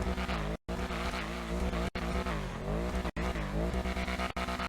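Obey 8F Drafter in GTA Online with a loud, sustained engine note that sweeps up and down in pitch as it revs, broken by three or four brief gear-shift cuts.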